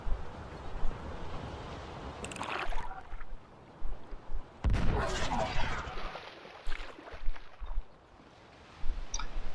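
A bomb dropped in a video game explodes midway with a sudden loud, broadband boom that quickly fades, set amid quieter game sounds and brief bursts of noise.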